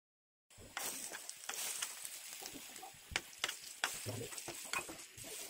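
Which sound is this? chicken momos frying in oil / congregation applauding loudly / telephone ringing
chicken momos frying in oil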